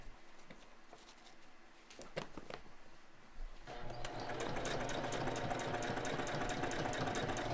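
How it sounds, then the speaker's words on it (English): A sewing machine stitches boat cushion covers for a sailboat, starting with a few soft clicks and knocks, then settling into a steady, close, continuous mechanical whir that runs to the end. "Sewing with the machine makes everything easier and faster."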